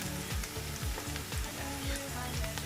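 Spices stirred into a mushroom and meat sauce frying in a pan for oyster mushroom spaghetti, giving a steady sizzle with rhythmic scraping strokes repeating about every half second, close and moderately loud.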